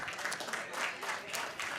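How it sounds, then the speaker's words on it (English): Audience applause at a City of Carson groundbreaking ceremony for a fiber optic network, a steady, fairly soft wash of clapping that continues without a break for the whole stretch. "y'all should clap for that"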